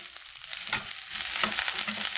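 Sliced garlic and onion sautéing in a frying pan for beef with ampalaya, giving a close, crackling sizzle that swells as the onion goes in, with light stirring scrapes.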